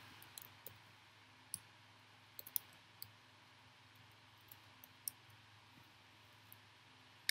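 A computer mouse clicks sparsely and faintly, with single and paired sharp ticks scattered irregularly over a low, quiet room hum.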